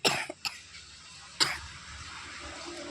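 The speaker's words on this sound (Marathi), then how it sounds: "खोकलं" A person coughs sharply a couple of times in quick succession, then gives one more cough about a second later, close and fairly loud against a quiet background.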